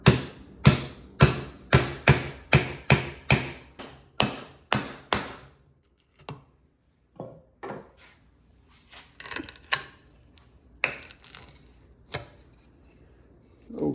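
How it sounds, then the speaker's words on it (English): A hammer strikes a chisel to knock a segmented wooden bowl off a lathe faceplate: about a dozen sharp, hard knocks in quick rhythm, then a pause and a few scattered lighter taps and thuds, all close. "a chisel and a hammer"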